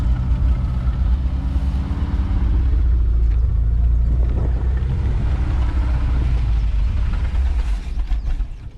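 An old car engine, not run in ten to fifteen years, idles loud and close while warming up, with a steady low rumble and some wind buffeting on the microphone.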